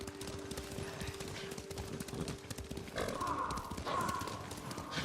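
Horses' hooves clip-clop steadily on a path in the video game Ghost of Tsushima, a close, even rhythm over a constant background, with a horse's whinny near the end.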